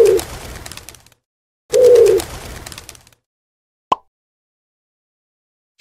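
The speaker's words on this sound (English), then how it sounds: "Touch my wings to hear me coo." A pigeon cooing in two throaty, rolling phrases separated by a short pause, close and fairly loud, followed by a single sharp click.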